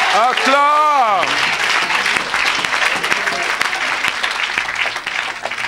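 A church congregation bursts into loud, sustained applause, a dense steady clatter of clapping mixed with crowd voices, following a short sung or shouted vocal phrase at the start.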